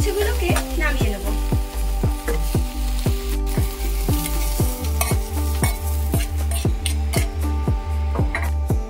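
Bitter gourd fries with turmeric powder in a pot, a close, steady sizzle broken by regular scraping stir strokes about twice a second throughout.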